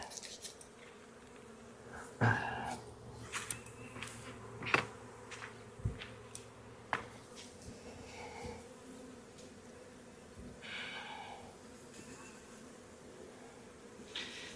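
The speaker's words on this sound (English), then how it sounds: "there's just a bunch of bees kind of clustered in this box that I'm going to have to shake in" A wild honeybee colony clustered in a hive box gives off a soft continuous buzz, with individual bees droning past close by and a few faint knocks.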